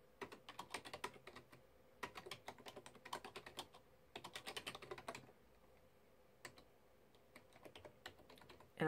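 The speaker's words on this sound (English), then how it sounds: "and then just start typing." Rapid bursts of keystrokes on a computer keyboard come in short flurries separated by brief pauses, fairly close and clear with no voices.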